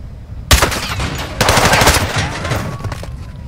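Video-game gunfire in Call of Duty: Modern Warfare 2, with loud, close bursts of rapid automatic fire and sharp cracks that start abruptly, separated by a short gap, then trail off into softer shots.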